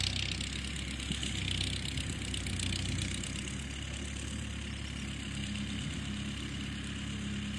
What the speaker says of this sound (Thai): ดูผู้บ่าวขับรถไถกันต่อ